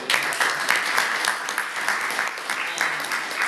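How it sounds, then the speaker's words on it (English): A guest speaker event ends with an audience giving a round of applause, a loud, dense burst of many hands clapping close by, with a faint voice under it. "a round of applause for our audience members"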